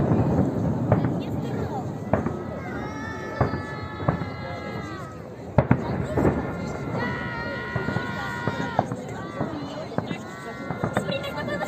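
Victory Day fireworks salute in Belgorod on 9 May: repeated booms and crackles with whistling rockets scattered through the span, outdoors amid steady talk from nearby people.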